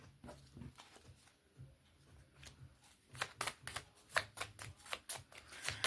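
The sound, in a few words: shuffling astrology cards for a card reading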